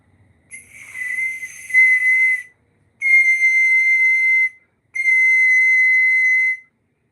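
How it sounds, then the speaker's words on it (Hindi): A ballpoint pen cap blown across like a flute gives three sustained, steady whistle tones, each about one and a half to two seconds long with short breaths between, loud and close with no talking. "आप ऐसे रख के फूक मारोगी, तो विसल से आवाज़ आएगी।"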